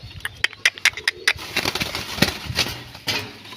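Pigeons moving and cooing in a coop: a quick burst of sharp flaps and scuffs at first, then softer low cooing under rustling movement, all close by.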